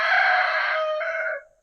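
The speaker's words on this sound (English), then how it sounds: "my chickens are out." A rooster belts out a single loud, close cock-a-doodle-doo crow lasting over a second, clear and alone against a quiet backdrop.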